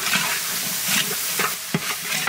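Ginger paste going into mutton curry frying in a large village cooking pot, with steady close sizzling and a few scraping stirs; no talk.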